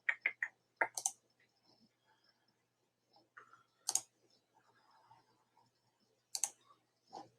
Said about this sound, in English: So I'm going to click on this.